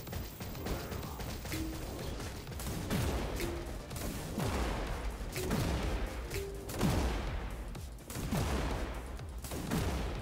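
Sharp gunshots ring out in a first-person tower-defense shooter against invading dinosaurs, a series of separate cracking blasts spaced about a second apart, each trailing a short echo over a rumbling, busy battle backdrop.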